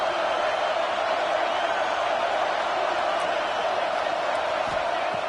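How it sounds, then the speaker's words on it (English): A stadium crowd at an LSU vs Texas college football game roars in a steady, dense wash of cheering noise that holds constant without a break. "here comes the noise. This crowd is trying to inspire this defense to make a big red zone stop"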